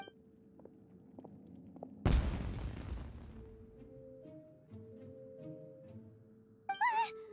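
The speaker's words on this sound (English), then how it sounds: "Fireworks! Huh? Was that an explosion?" An explosion in the video game Genshin Impact, resembling fireworks, bursts out suddenly and loudly about two seconds in, then rumbles and fades over roughly a second, set among soft game music and chimes.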